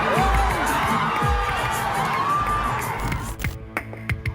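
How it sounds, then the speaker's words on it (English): Fans of the Telugu film star NTR cheering at a star's event: a loud, dense crowd roar with shrill whistles and whoops that fades out near the end, leaving scattered shouts. "Spotted at every event, cheering his screen idol."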